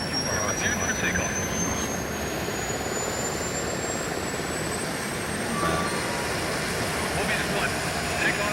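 A jet aircraft in a video game roars continuously during takeoff, with a steady broadband rush and a slowly rising whine, and game radio chatter is heard over it.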